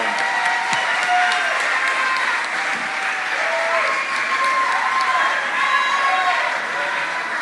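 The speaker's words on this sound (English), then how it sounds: "Let's give the candidates a round of applause." Audience applause for mayoral candidates at a Tulsa mayoral debate, a dense, steady wash of many hands clapping that fills the whole stretch at full strength, with faint voices mixed underneath.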